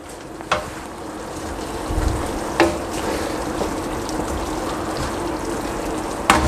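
Ginger chicken with chopped green chillies and fresh coriander stirred in a hot pan gives a steady, close sizzle, broken by a few sharp clinks of the spoon against the metal.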